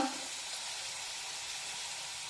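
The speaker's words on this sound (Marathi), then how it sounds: "आता दोन्ही बाजूने उलटपुलट करत या पुऱ्या आपण छानपैकी तळून घेऊया" Banana puris frying in hot oil over moderate heat, a steady close sizzle and bubbling hiss that holds evenly throughout with no talking.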